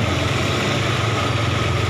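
A Toyota Lovelife engine idles steadily in its engine bay, a continuous low rumble with a smooth mid-range hum, close and even throughout with no voices.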